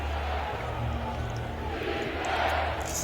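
A packed basketball arena crowd at a Nuggets at Clippers playoff Game 1 keeps up a steady, dense roar and murmur, with a slight swell toward the end and no clear single voice.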